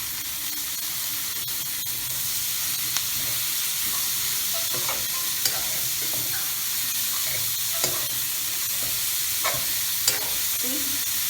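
Vegetables for spicy noodles sauté in a hot pan with a steady broadband sizzle, punctuated by occasional soft clicks and scrapes of tossing and stirring, with no talking.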